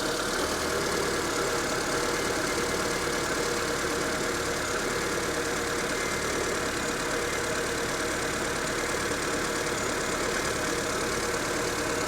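A Proton Satria's 1.5 litre Magma engine idles steadily at a constant low rumble, close and even throughout with no revving or voices.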